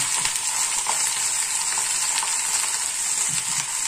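Eggplant sizzles in hot oil in a pan with popped mustard seeds for a Tamil stir-fry, a steady, dense crackling fry with small pops and no voices.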